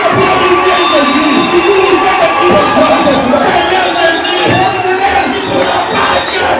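A church congregation at a Sunday service cheering and shouting praise to the Lord, a loud dense crowd roar of many voices sustained throughout.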